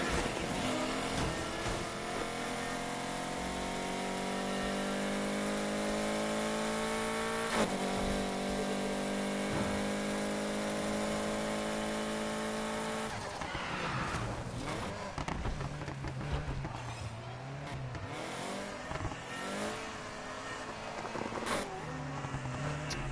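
Car engine in NFS Heat with a swapped motor, droning steadily as it revs through rising gear pulls for about thirteen seconds, then shifting into choppier, varied engine and road noise, loud and continuous with no talk.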